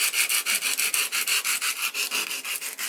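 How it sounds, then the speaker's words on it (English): Hand sanding antique marquetry with 140 or 160 grit sandpaper: steady, rhythmic back-and-forth rubbing strokes, close and fairly loud, with no talking. "So we just get a 140 or a 160 sandpaper,"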